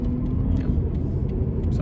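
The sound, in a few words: car engine revving as it accelerates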